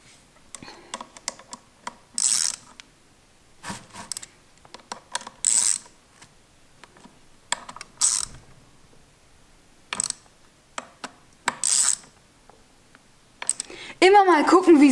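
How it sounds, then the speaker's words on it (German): A 5 mm Allen key turning chain-link screws in alternation on a Yamaha XJ6 motorcycle chain, giving short clicking, ratcheting bursts separated by pauses, fairly close and moderately loud. "schraubt mit einem 5er Imbus immer abwechselnd die Schrauben Stück für Stück rein"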